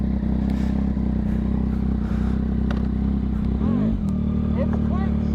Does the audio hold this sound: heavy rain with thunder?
no